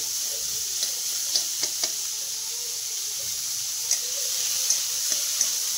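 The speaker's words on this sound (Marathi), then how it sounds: "आता हा कांदा परतून घेणार आहे" Onion sautéing in a pan for paneer paratha: a continuous bright sizzle and hiss with occasional soft clicks of a spatula stirring, close and steady, with no voices.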